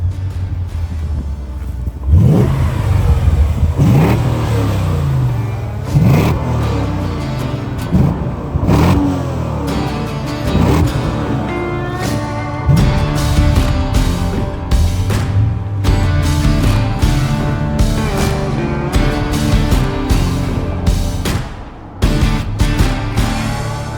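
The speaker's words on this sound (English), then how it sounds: "The sounds of these at startup are fabulous." A BMW Z8 roadster with a 6-speed manual starts up and revs repeatedly, its engine note rising and falling loudly and close by over a sustained rumble, with no talk.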